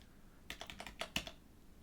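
Close, quiet computer keyboard typing during an Arch Linux install, a short burst of about eight distinct keystrokes clicking in an uneven rhythm, with no talking.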